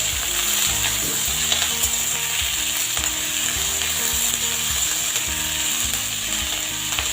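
Chopped onion fries with green chilli in a pan while being stirred, giving a continuous close sizzle under a rattling, ratchet-like mechanical noise, with no talking.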